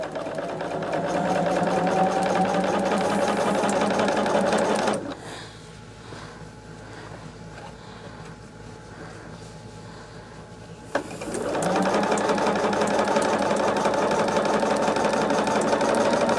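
A sewing machine stitches fabric at a steady, loud buzzing whirr, stopping for several seconds of quiet handling before starting up again at the same pace.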